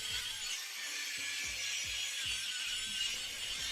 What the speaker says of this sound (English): Buffing out a tabletop like this is one of my favorite processes